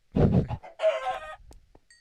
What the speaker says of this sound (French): Ah, il y a poulet.